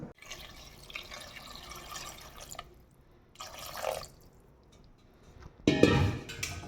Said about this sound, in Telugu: వాటర్ పోసేయాలండి